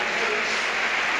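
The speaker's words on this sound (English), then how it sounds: "Huge applause" Crowd at a Leeds United football match gives sustained, dense applause, a loud continuous wash of clapping filling the whole moment without a break.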